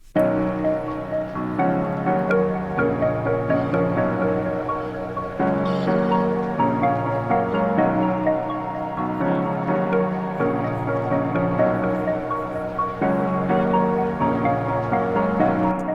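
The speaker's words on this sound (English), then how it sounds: "Alright, I've dragged in a bunch of atmospheric loops," Atmospheric loops layered with melodic parts in a chill house track play steadily, sustained tonal pads and repeating chords cycling in even phrases with no voices.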